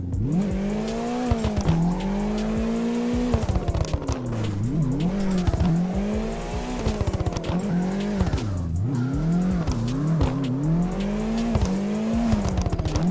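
A Nissan 180SX drifts in CarX Drift Racing Online: the engine rises and falls in a continuous loud drone while the tires squeal without a break throughout.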